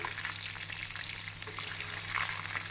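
Boiled soya chunks frying crisp in hot oil for a spicy 65-style dish, with a continuous bubbling sizzle and crackle, close and steady, and no one speaking.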